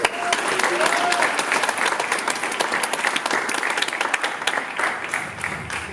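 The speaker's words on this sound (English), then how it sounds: "Give them a round of applause." At a student film festival award night, an audience applauds for the winners, a thick, lively burst of clapping with some cheering, continuing for several seconds as voices call out over it.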